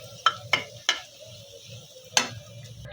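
A spoon stirs cabbage, potato and egg fry in a pan, four sharp metallic scrapes and knocks against the pan over a low, quiet sizzle, close and distinct.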